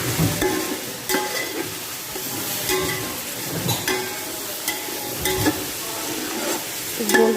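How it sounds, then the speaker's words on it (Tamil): Onions with mint powder being sautéed in a pan for mutton biryani: continuous sizzling frying with repeated scraping stirs of a spoon at close range, no voices. "கொஞ்சம் புதினாத்தூள் ஆட் பண்ணி நல்லா வதக்கி விடுங்க"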